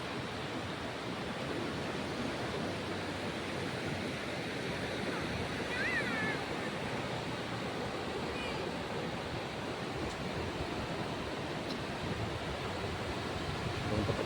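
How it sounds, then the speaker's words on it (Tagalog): Ocean waves wash continuously onto a shore under overcast skies, a steady broad roar of surf mixed with some wind, heard from nearby. "Yun, maganda po talaga ang alon."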